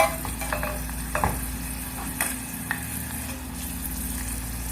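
Masala for daal sizzles steadily in hot oil while a spoon scrapes and stirs it in the pan, with a few sharp clinks near the start and no talk.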